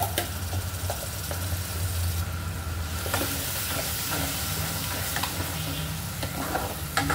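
Onion and tomato paste masala frying in a kadai, a continuous close sizzle with scraping stirs and occasional clinks of the spoon against the pan.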